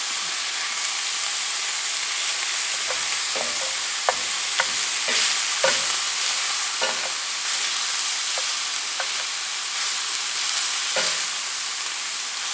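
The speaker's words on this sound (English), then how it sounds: "I'm going to add about 1 large and 1 small clove of finely minced garlic." Finely minced garlic fries in a hot pan for goulash, a constant loud sizzle broken by irregular scraping knocks of a utensil stirring it around.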